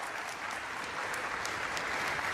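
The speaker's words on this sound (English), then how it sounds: "Can we have a loud round of applause?" Audience gives a steady, dense round of applause for a double Olympic gold medal winner at a climate summit, continuous clapping from a large crowd throughout, with no voices.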